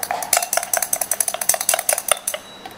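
A homemade shampoo mixture being stirred briskly in a small container, producing a rapid, regular run of close clinking taps that stops shortly before the end.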